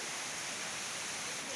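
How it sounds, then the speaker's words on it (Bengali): Water pouring down from a hilltop at a Panchalingeswar temple site, a steady broadband rush heard at moderate distance with no other clear sounds. "কি সুন্দর পাহাড়ের উপর থেকে জল পড়ছে"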